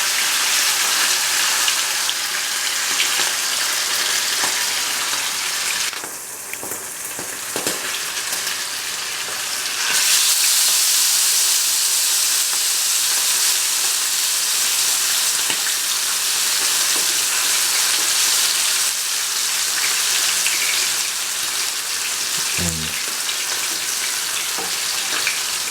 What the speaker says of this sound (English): Let it fry for 5 to 10 minutes by turning from side to side.